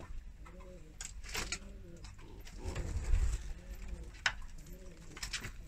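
Akbaş Baska pigeons coo repeatedly in a coop, soft rhythmic calls sounding close, with light rustling and shuffling between them.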